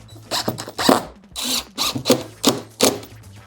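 A power drill drives screws into wooden brackets in a shop, giving repeated short, loud whirring bursts in an uneven rhythm, close up.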